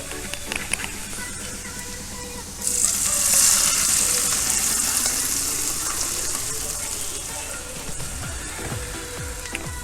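Hot mustard seed tempering poured into vada koottukari bursts into a loud sizzle that then settles into a steady, softer crackle of frying.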